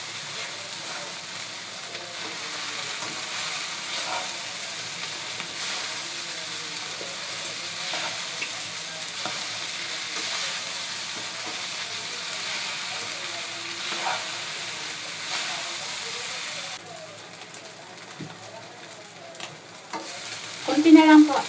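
Pancit noodles fry and get stirred in a pan, a steady sizzle with scraping and clinking from the stirring, continuous and close, briefly louder near the end.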